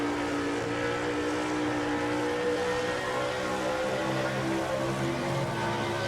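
A race car engine in a NASCAR racing video game holds a steady, droning high-revving tone, heard on board the car through turn one, loud and continuous with no talk.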